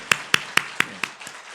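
A few slow, distinct claps at a church service, about six evenly spaced hits, close and fairly sparse, fading slightly toward the end.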